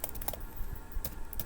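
Quick keystrokes on a computer keyboard entering a Linux cd command: a short burst of light, close clicks with a few separated taps, over a faint steady room hum.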